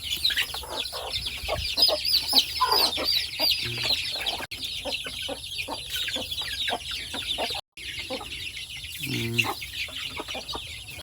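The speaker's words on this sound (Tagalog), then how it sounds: "Ganito yung kain nila dito guys para sa mga sisiyo." Chicks on a farm peep and cluck continuously in a busy, overlapping chorus while eating feed, close to the listener, with a few brief clatters in between.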